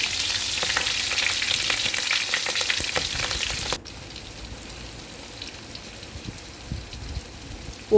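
Vegetables sautéing in hot oil for a chicken curry, a loud crackling sizzle that abruptly drops to a much quieter, faint hiss midway, then small clatters near the end; no one speaks.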